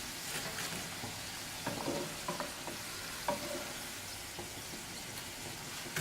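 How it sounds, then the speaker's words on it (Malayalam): Panipuri puris deep-fry in hot oil with a steady hissing sizzle, broken by scattered crackles and small pops, and a sharp clink right at the end. "ഇതുപോലെ നമുക്ക് എല്ലാ പൂരികളും ലൈറ്റ് ഗോൾഡൻ കളർ ആവണത് വരെ ഫ്രൈ ചെയ്തെടുക്കാം."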